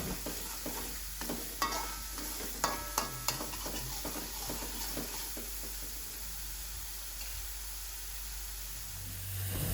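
Spice paste for eggplant balado fries in a pan while a spoon stirs it, giving a steady sizzling hiss with scraping taps and clinks near the start that fade into a continuous fry.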